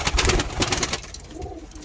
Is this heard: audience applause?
no